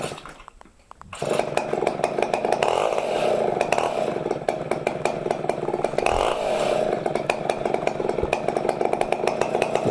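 Big chainsaw milling a bur oak log into wide planks: a loud, sustained rasping engine roar with gritty cutting texture, starting after a brief quiet moment and holding near full throttle throughout.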